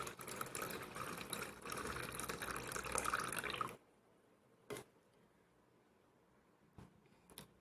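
Rinse water is poured off leftover rice in a steady close stream for a few seconds, then stops, leaving a few scattered drips in the quiet.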